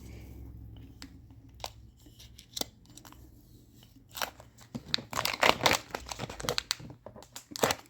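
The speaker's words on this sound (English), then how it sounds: "if you can get a corner and start it loose and then peel it, it is peeling off without additional soaking of any kind" A metallic paper label is peeled off a surface by hand in quick crinkly, crackling tears, sparse at first and then denser and louder toward the end, close up and with no talk.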